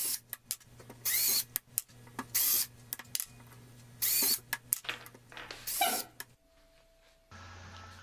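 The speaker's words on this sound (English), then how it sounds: "I'm using a 3/16 inch drill bit for these holes" A power drill with a 3/16 inch bit whirs in several short bursts separated by brief pauses, drilling holes in pipe caps, fairly close, ending with a lower steady hum.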